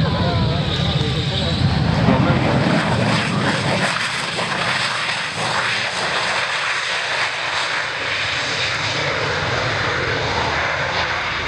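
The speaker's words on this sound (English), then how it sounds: "Major Stellan Andersson, a splendid demonstration of the Swedish Air Force historic flight, Saab AJS-37 Viggen" A Saab AJS-37 Viggen jet roars overhead during an air show demonstration, a loud continuous broadband blast that gradually settles into a sustained engine rumble.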